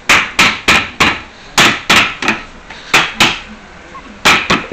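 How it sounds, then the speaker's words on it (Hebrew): Hammer knocks firming up a freshly assembled chair: about a dozen sharp, loud wooden blows in irregular bursts, mostly single strikes with occasional quick pairs, close by with no talking. "כמה דפיקות לחיזוק"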